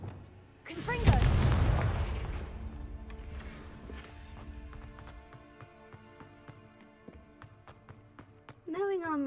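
Confringo, the fire spell in the video game Hogwarts Legacy, lets off a loud, close blast that bursts suddenly and then rolls away into a fading rumble. Scattered clicks follow, and a voice comes in at the very end.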